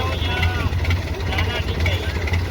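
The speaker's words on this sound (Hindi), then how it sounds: "भाई इंजन के अंदर साइलेंसर नहीं लगा हुआ है क्या आपके? इधर आवाज़ क्यों कर रहा है इतना?" A loud, unmuffled boat engine without a silencer drones continuously and harshly up close during a ride out from Karachi, with people talking over the roar.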